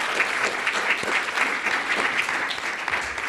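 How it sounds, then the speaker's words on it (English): Sustained applause from a large audience at a retirement summit awards presentation, steady and enthusiastic throughout. "Another big round of applause for her leadership."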